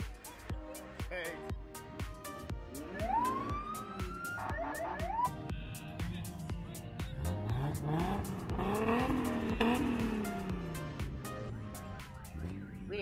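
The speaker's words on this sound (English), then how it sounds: "We didn't realize there was going to be a lot of revving" Vehicle engines rev repeatedly at a Liberation Day parade in Guam, with loud rising and falling wails, sharp bursts and crowd noise around them for the whole stretch.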